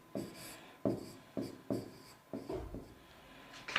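Marker or chalk writing on a classroom board during a chemistry lecture, a series of short scratchy strokes in bursts, close and fairly quiet, with no talking.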